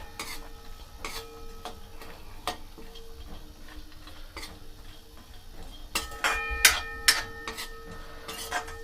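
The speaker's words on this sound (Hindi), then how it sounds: "हम ड्राई फ्रूट को" Chopped dry fruits being roasted in a pan on medium flame for Eid sevaiyan, with light ticking spoon taps and scraping, faint at first and growing busier and louder toward the end.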